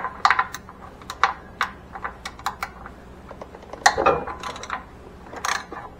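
A 9/16 inch socket wrench loosening the pulley bolt on an Exmark mower drive belt, heard as scattered sharp ratchet clicks and metallic taps, close and intermittent with no talking.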